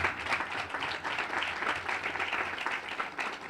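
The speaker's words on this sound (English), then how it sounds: "Aaron, let's give this man a round of applause" Guests at the Arlington Grove housing grand opening give Aaron Weisner a round of applause, a dense and continuous stretch of clapping over a faint low hum.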